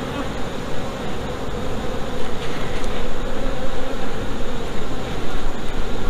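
Honeybees buzz around an open beehive on a farm, a dense continuous drone close to the listener that holds steady throughout.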